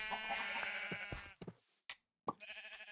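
A mountain sheep bleats a few times in soft, quavering calls, fairly quiet and alone, broken by short pauses and gaps of silence.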